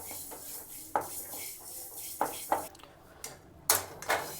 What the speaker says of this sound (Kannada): ಮೆಂತ್ಯನ ಸಣ್ಣೂರಿನಲ್ಲಿ ಹಿಂಗೆ ಕೈ ಬಿಡ್ದಂಗೆ ಚೆನ್ನಾಗಿ ಹುರಿರಿ